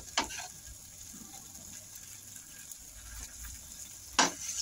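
Masala pav frying in a pan, a quiet, steady sizzle with a couple of sharp clicks or scrapes near the start and end.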